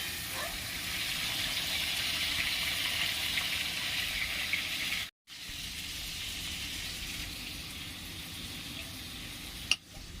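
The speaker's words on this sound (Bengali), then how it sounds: "চিংড়ি মাছটাকে ভালো করে ভেজে নেব।" Prawns sizzle and fry steadily in hot oil, a dense continuous crackle that drops out briefly midway before resuming, with a sharp clink near the end.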